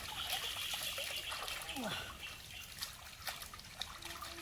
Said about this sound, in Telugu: కొండపై నుంచి నీరు వస్తుంది కదా అయి ఉంటుంది గడ్డ ఇలా పారుతూనే ఉంటుంది ఇది